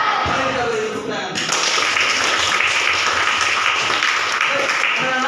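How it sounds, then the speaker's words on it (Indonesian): A class of schoolchildren breaks into applause after a brief moment of noise, with quick dense clapping that keeps going evenly to the end. "Mari kita beri tepuk tangan."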